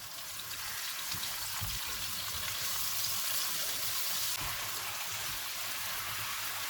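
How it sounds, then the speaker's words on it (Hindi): Marinated chicken frying in hot oil for tandoori chicken cutlets: a steady, loud, crackling sizzle that runs throughout with scattered small pops. "ऑयल गर्म हो गया है, इसमें मैरिनेटेड चिकन डालेंगे।"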